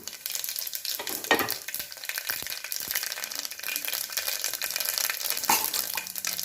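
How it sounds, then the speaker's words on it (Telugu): Mustard seeds and cumin dropped into hot oil for a Telugu-style mattikaya pulusu: a steady, bright sizzle with faint crackles and pops running throughout, close and alone, with no speech. "ఆయిల్ వేడెక్కిందండి ఆవాలు జీలకర్ర వేస్తున్నాను"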